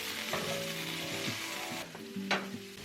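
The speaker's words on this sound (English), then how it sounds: "add them to a hot skillet with some olive oil. And I am browning these on each side for about 4 minutes each." Chicken cutlets brown in olive oil in a hot skillet with a steady, close sizzle and spatter, broken by a few clinking pan and utensil knocks, with a sharp burst of hiss near the end.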